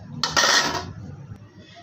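Half a kilo of cut bungra pieces tumbling into a kadhai, a short burst of clattering hits against the metal pan lasting about half a second, followed by a quieter settling rustle.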